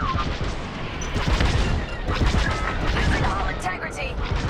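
Starfighter weapons blaze in Star Wars Squadrons, a loud, dense rattle of blasts and booming impacts layered over spoken dialogue.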